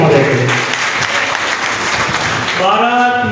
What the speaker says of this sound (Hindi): उनको उद्बोधन के लिए जोरदार ताली हमारे मुख्य अतिथि महोदय के लिए